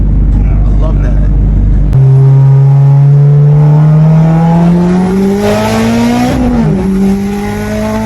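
A Mitsubishi Evo X on a stock-block engine revs hard and loud up through the rev range, with a sharp shift and a rising tone that carries on up to the next gear, very close and dominating the whole stretch.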